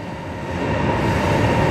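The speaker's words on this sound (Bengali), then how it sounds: "আমরা এখন ট্রেনে উঠব, এই সেই বুলেট ট্রেন" A Chinese bullet train at Nanjing South station gives a steady, loud rumble that swells slightly partway through, with no voices.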